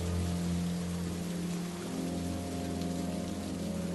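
Steady rain pours through a stormy night in a cartoon, a dense, even hiss that runs unbroken from start to finish, with a low steady hum beneath it and no voices.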